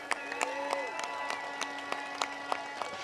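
Scattered, uneven clapping from a small union rally crowd urged to stand, sparse individual claps rather than a full ovation, fairly quiet with a faint tone and background murmur underneath.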